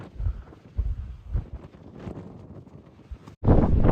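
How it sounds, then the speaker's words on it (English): Strong gusting wind buffets the microphone on a mountain descent, roaring in uneven bursts and surging loud near the end, with no talk over it. "it's just a little windy"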